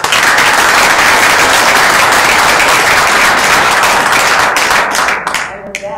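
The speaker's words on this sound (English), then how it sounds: "So I'd like to give a round of applause for our sponsors." Audience applause for sponsors at an international workshop in Atlanta, a dense, steady wash of clapping that holds loud for about five seconds before thinning and fading at the end.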